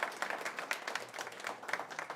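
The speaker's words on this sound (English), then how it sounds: "Give yourselves a round of applause." Audience applause at an evening Chanukah lecture by a rabbi, a steady wash of clapping from a crowd at moderate distance, continuous for a couple of seconds with no talking over it.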